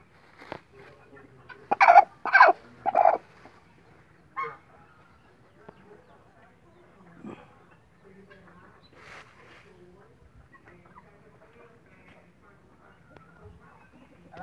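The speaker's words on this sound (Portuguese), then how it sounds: "Galinha gigante, ele botou, tá botando ovo." A few loud squawking clucks from a giant Indian Gigante hen laying an egg near the start, then quieter scattered clucks and background voices over a farmyard.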